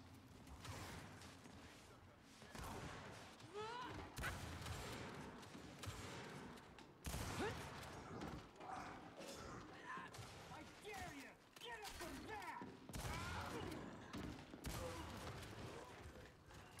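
Gunfire in Gears 5, with bursts of rapid shots, metallic mechanical clanks and impacts in irregular clusters, while a person talks over much of the action.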